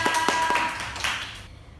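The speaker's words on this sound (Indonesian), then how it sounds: "Tepuk tangan buat Novia." A classroom of students gives a short burst of applause for a classmate during a microteaching lesson, a few quick claps near the start and another brief flurry before it stops.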